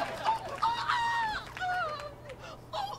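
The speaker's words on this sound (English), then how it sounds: "What's up with the birds now?" Loud bird calls, crowing and squawking cries, ring out in a lively burst close by, with faint voices in the background.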